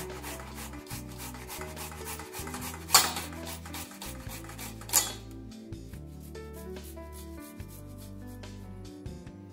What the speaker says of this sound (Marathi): किसणीने किसून घ्यायचे म्हणजे बारीक बारीक गडे राहत नाही।